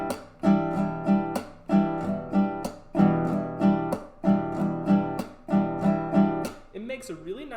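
Acoustic guitar strummed in a repeating down, up, smack, up pattern, steady rhythmic chords with a percussive thumb hit on each beat, close and clear, ending with a short scratchy scrape.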